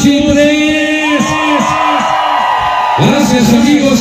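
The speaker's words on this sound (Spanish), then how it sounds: "quiero despedirme con un grito chingón para el JJB" Crowd at an outdoor sound-system event on an esplanade in Ecatepec, shouting together in one loud, sustained roar with whoops and voices rising and falling, close and dense.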